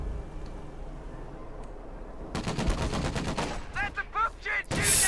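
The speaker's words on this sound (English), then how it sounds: "that was an anti-tank launcher, so it really damaged my vehicle" In a Company of Heroes 2 match, an anti-tank launcher fires at a vehicle: a sudden loud blast breaks a quiet lull, followed by a dense rattle of battlefield gunfire and sharp explosive bursts that build to a heavy final impact.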